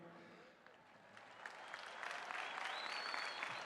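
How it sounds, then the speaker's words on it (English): Audience applause at the Ohio State University 2024 commencement, a large crowd clapping that starts faint, then grows into a dense, sustained roar in a big venue. "let's one more round of applause for the class."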